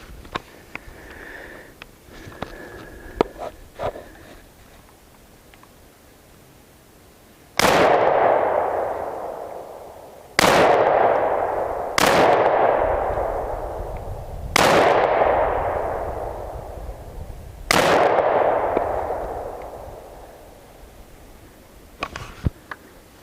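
A Polymer80 AR15 rifle fires five single rounds a few seconds apart, each a loud, sharp crack with a long ringing decay, after quieter handling noises.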